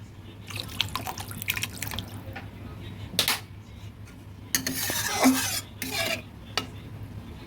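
Water poured into a pan of koi fish curry, a broad splashing pour around the middle with stirring and clinks of a utensil before and after, close and moderately loud.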